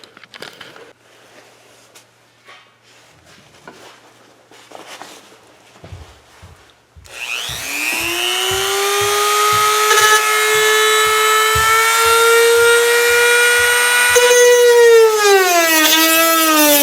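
Power tool trimming a plastic bumper on a Land Rover LR3, rising to a loud steady high whine that holds for several seconds, after quieter handling noises.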